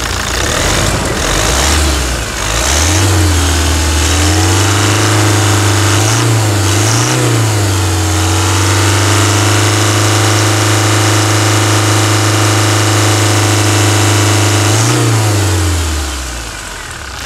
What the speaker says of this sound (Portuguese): E olha a melodia desse motor,